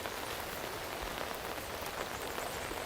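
Light rain falls steadily across a garden, an even, dense hiss of drops pattering on surfaces with no break or voices.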